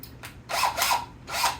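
DeWalt impact driver sinking a screw, a few short bursts of whirring hammering with brief pauses between, close and fairly quiet, no talk.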